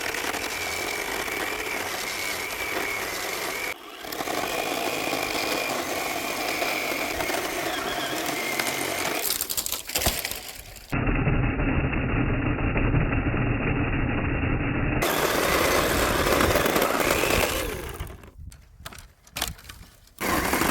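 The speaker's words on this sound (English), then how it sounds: "This little chainsaw does a good job." A small chainsaw cuts through already-dead standing trees outdoors. It runs steadily at close range with a buzzing engine note, pauses briefly, then bites harder through the wood. Near the end it tails off into irregular revs and stops.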